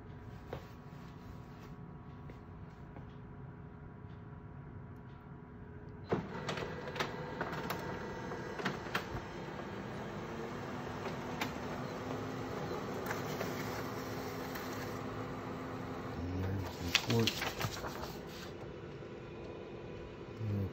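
An HP Color LaserJet Pro MFP M479fdw laser printer whirs and rattles steadily while printing a report, with a louder mechanical burst starting partway through, rhythmic feeding and clicking sounds continuing close by.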